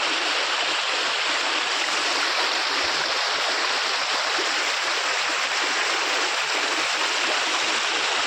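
Water in a stream rushes in a steady, dense hiss that stays even and unbroken throughout, with no voices over it.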